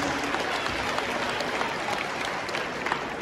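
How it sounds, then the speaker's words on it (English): Audience applause at a district school band festival, a dense, steady wash of many hands clapping continuously at full volume throughout, with no speech over it. "A round of applause for our staff."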